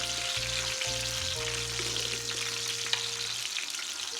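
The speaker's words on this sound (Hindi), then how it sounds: "ये देखें माशाल्लाह ये हमारे फ्राई हो चुके हैं गोला कबाब।" Gola kebabs frying in hot oil give a steady, close sizzle with broadband crackle, while low hum tones run underneath; no one speaks.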